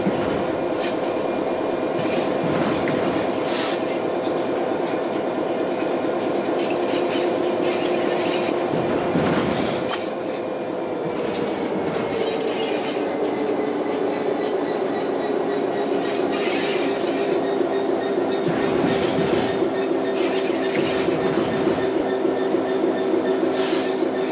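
A Class 66 diesel locomotive in Train Sim World 3 pulling wagons at Hoo Junction on a foggy day, its loud engine drone rising in pitch as it gets under way, with rhythmic clickety-clack and rail clatter throughout.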